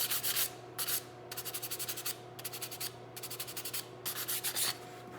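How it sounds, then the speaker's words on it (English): Sanding the edge of a brass patch box on a colonial rifle kit: repeated short rasping rubs in quick rhythmic bursts, close and clear with brief pauses between strokes. "If you need to sand the edge of the box a little bit, you can."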